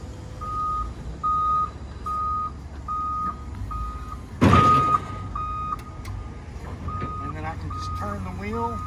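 A Doosan 3,500 lb forklift reverses with its backup beeper sounding a steady series of evenly spaced electronic beeps over engine rumble, a brief louder clatter midway, and someone talking over it.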